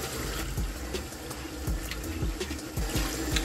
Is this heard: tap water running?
yes